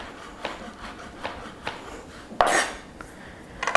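A knife mincing shiitake mushrooms on a cutting board, a few spaced chopping taps followed by a louder run of quick scraping cuts, close and without speech.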